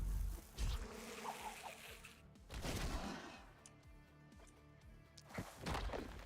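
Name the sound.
bees buzzing in video game The Last Spell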